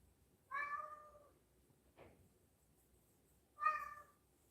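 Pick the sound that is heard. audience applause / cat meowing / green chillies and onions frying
cat meowing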